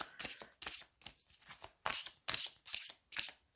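Tarot cards being shuffled and drawn by hand at close range, a quiet series of rhythmic riffling bursts about every half second, with no speech.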